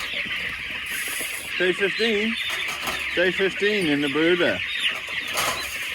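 Chickens cluck in a brooder at feeding time, several birds calling in a busy overlapping chorus over steady background noise, while a person talks over them.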